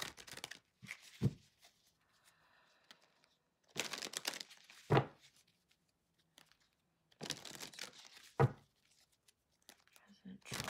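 Tarot cards are shuffled in several separate close bursts of rustling and crinkling, with quiet stretches and some talk between them.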